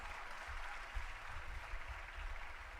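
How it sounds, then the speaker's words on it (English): Applause from the audience at a school choir night, a soft, steady wash of clapping that stays fairly faint and even throughout, with no voices over it. "So can we have a very special round of applause for Dalaya ma'am, please?"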